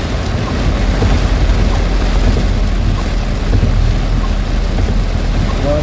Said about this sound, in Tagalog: Lakas talaga ng ulan na to ah